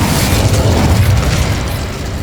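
A loud, roaring fire-spell blast from Hogwarts Legacy, a sustained whooshing burst with heavy low rumble that slowly tapers over about two seconds, heard alone without talk.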